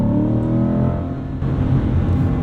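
A Chevrolet C8 Corvette engine surges on a transmission kick-down, a loud, close droning rev that dips briefly, then swells again.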